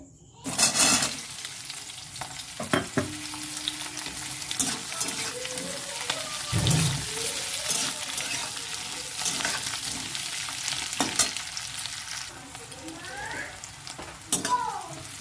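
Onions sizzle steadily in hot oil, with occasional scraping stirs and clinks of a utensil against the pan throughout.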